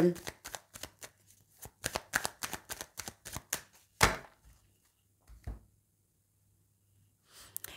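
Oracle cards are shuffled in a quick run of close, papery riffles and taps. A single thump and a few softer card sounds follow before a pause, and a voice is faintly present.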